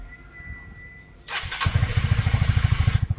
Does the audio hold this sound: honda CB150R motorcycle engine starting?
yes